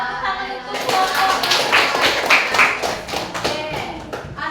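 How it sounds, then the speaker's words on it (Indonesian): Classroom applause from schoolchildren for a student group, a loose burst of hand claps that starts abruptly and carries on steadily, with some taps and voices mixed in. "Kasih tepuk tangan untuk kelompok."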